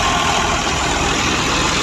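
A 65-horsepower Al Ghazi tractor, 2005 model, idles with a steady, loud, close rumble and a constant mechanical hum, with no breaks and no voices.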